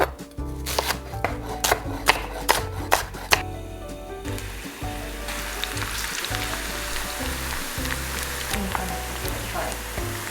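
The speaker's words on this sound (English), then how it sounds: "Let's fry some shallots." Shallots frying in a pan, a run of sharp knocks like chopping giving way to a steady sizzle, close by with no talk.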